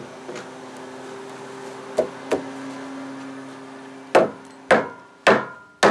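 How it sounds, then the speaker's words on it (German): Sharp wooden knocks from a hammer driving wooden joints together, two lighter blows followed by four heavy, evenly spaced strikes that ring out over a steady low hum. "Man muss mit dem Hammer hauen."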